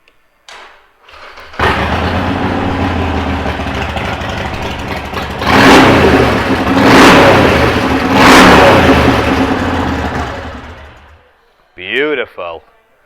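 A 2016 Harley-Davidson 1200 Forty-Eight motorcycle starts up and settles into a loud, rumbling idle. It then gets three strong revving blips before it shuts off, and someone speaks briefly afterward.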